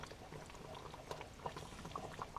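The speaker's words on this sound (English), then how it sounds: "we got a little bit more than a slow simmer going on there" A pot roast bubbles in a black iron pot at a lively simmer, a faint, soft stream of small pops and burbling gurgles heard close up with no talking.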